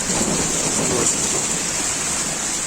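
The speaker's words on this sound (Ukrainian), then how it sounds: "Ось така погодка на вулиці. Дощик лиє" Steady outdoor rain pours with a dense continuous hiss, thunder rumbling faintly in the low end, no voices over it.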